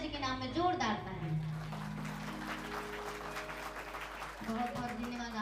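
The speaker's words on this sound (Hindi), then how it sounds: "निवेदन एक बार हमारे माता और पिताजी के नाम में जोरदार ताली।" An audience at a stage event applauds under musical tones and a speaking voice, with the clapping continuing as a steady wash beneath the music.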